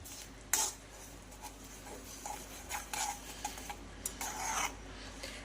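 A spoon stirs jaggery into tamarind chutney in a bowl, making soft scraping and clinking strokes in an irregular rhythm, close and fairly quiet, with no voices.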